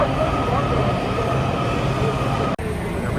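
Continuous rumble and rattle of a DC Metro subway train riding along, steady and loud throughout, with a brief dropout near the end and faint voices mixed in.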